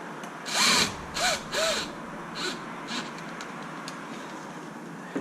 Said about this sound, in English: Make sure you clip this in, and then you can tighten the 4 bolts.